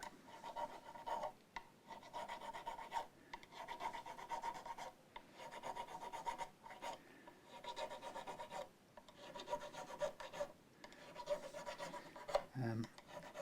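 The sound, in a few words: sanding a guitar fingerboard with sandpaper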